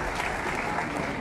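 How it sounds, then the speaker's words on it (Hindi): A political rally audience claps steadily and densely throughout, a continuous wash of many hands heard from within the crowd, with no voices on top. "ठोको ठोको ताली ठोको"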